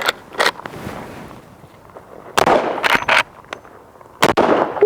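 Marlin 1894 rifle in .44 Magnum firing Critical Defense rounds, several sharp, loud, close reports spread over a few seconds, each with a short rumbling tail against outdoor background noise.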